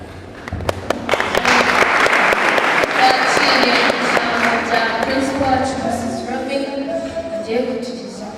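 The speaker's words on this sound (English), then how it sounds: "In the culture of Rwanda, clapping, it's a sign of thanking someone." Group applause at a school in Rwanda welcoming the administration, a burst of many hands clapping that builds quickly and holds strongly for several seconds before thinning, with voices mixed in beneath.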